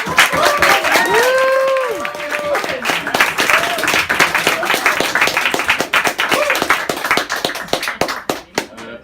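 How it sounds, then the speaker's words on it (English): Comedy club audience clapping to welcome a comedian, loud continuous applause with shouts and a whooping voice early on, the clapping thinning toward the end. "will you guys start clapping for your friend"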